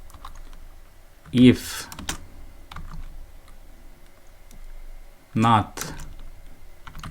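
Quick keyboard clicks of Python code being typed on a computer keyboard run steadily throughout, broken by two short spoken phrases.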